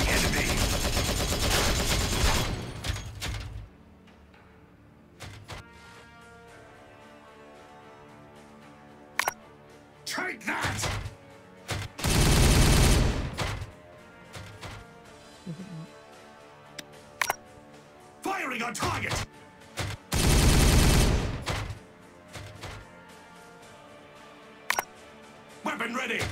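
Gunfire from the Warhammer 40K Regicide video game, with loud sustained bursts at the start and near the middle, shorter sharp shots scattered between, and quieter battle noise in the gaps.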